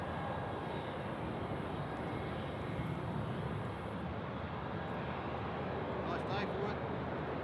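A Qantas jet landing on runway 34 left at Sydney Airport, its engines a steady broad roar at moderate distance, heard with radio and voice chatter over it the whole time.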